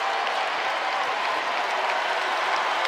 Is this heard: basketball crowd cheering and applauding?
yes